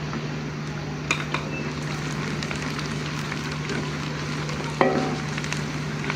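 Onions and whole garam masala fry in a pan for an aloo keema dish, giving a steady crackling sizzle with occasional scrapes and clicks of a spoon stirring.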